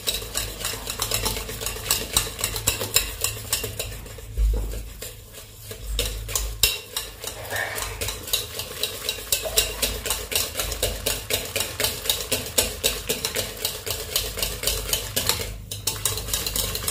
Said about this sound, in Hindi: अब हम इसको जो है कि एक भी डायरेक्शन में इस तरह से घुमाते हैं, घुमा कर इसको जो है कि मिक्स करेंगे बढ़िया से